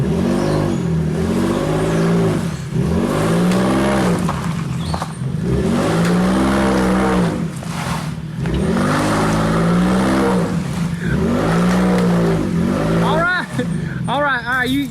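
A 2020 Tesla Model X in four-wheel drive strains to pull another vehicle in neutral, loud repeated surging whirs and tire noise rising and falling in waves, with people shouting over it.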